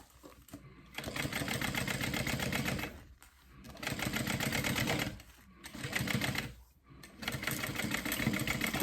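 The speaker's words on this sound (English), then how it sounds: "we're top stitching on our vinyl this time around" Sewing machine top stitching thin vinyl on a fold-over clutch, running in steady rapid bursts of needle clatter with brief pauses between stitching runs, close and fairly loud.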